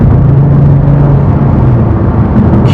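Kia Stinger engine pulling hard under acceleration while overtaking slower cars, a loud steady low drone with road rumble and wind, no voices.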